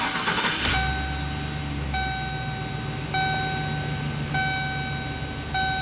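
A car engine runs smoothly at idle after a new fuel injector was installed, with a brief start or rev at the opening, then a steady low hum under a repeating electronic chime.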